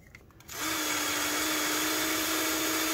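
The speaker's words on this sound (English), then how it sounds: "I love these step drills." A step drill bit cuts into a plastic project case for a power supply, switching on after a brief quiet moment and then running as a steady, loud, high-pitched whine with a constant tone, with no talking.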